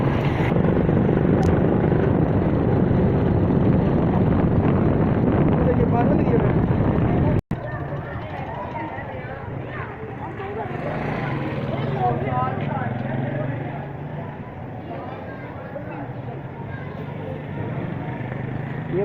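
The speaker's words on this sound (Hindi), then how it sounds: "हम बाइक पे जा रहे हैं" A motorbike ridden along a road, its engine droning steadily with rushing wind noise, while someone talks over it; after a sharp break the engine sound continues more quietly beneath the voice.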